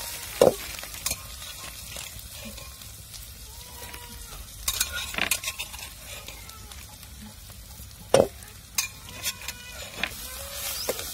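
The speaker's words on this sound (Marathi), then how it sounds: "तर आता आपली कांदा मिरची ते सगळं परतून घ्यायचं" Onion and chilli sauté in a hot tempering for kurdai bhaji, with a soft, steady sizzle broken by a few sharp spoon clinks and scrapes against the pan.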